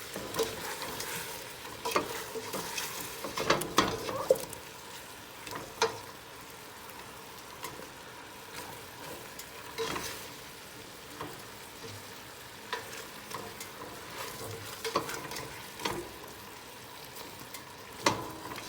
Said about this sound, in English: we'll go ahead and get a nice braise on this meat